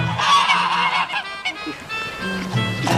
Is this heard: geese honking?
yes